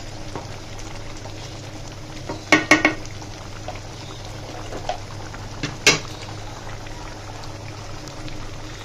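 Water bubbles gently at a boil in a pot before fish roe goes in, a steady low simmer with a few sharp clinks and splashes, no talking.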